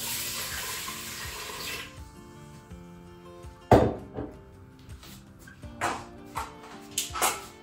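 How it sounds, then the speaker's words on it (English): Water pours briefly into a Crockpot Express pressure cooker pot with rice, a broad hiss from about the start that fades, followed by a few sharp clanks and knocks near the end. "add the water"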